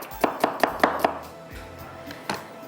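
Onions are chopped on a board for a Gujarati dahi kadhi. A run of five quick, crisp knife chops is followed by a pause and one more chop, close and clear, with no talking.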